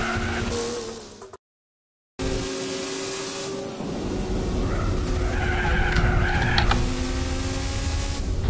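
A car in Gran Turismo 4 drifts with tires skidding: a sustained, loud screech with a steady engine drone underneath, after a brief dropout of silence, the squeal growing stronger and wavering toward the end.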